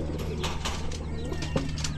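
A pet pigeon coos softly in repeated low throaty notes, with someone talking over it throughout.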